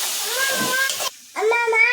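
Two medium onions sizzle and hiss steadily in hot oil, then a brief pause before the frying resumes with a voice speaking over it.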